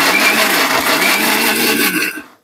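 A kitchen mixer grinder runs loudly and steadily in a home kitchen, one continuous whirring burst that cuts off and fades at the end, with no talking.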